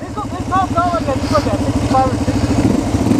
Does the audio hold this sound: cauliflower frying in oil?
no